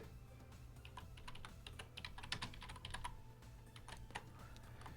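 Steady typing on a computer keyboard, a quick irregular run of light clicks and taps over a low constant hum, heard alone and fairly close.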